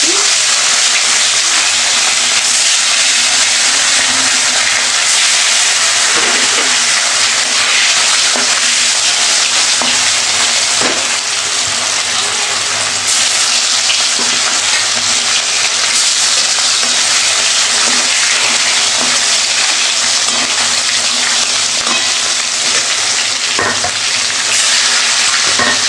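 Fish fries in hot mustard-oil style Bengali cooking, a loud continuous sizzle and crackle close up, with occasional stirring knocks and no voices.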